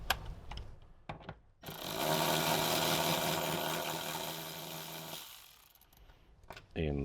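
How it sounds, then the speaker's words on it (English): A 14mm socket on a ratchet or power tool loosens a seat bolt inside a Toyota Tacoma, a sustained mechanical whirring burst of about three seconds, close by, framed by a few clicks and handling noises. "And then again with your 14mm socket, remove the first one."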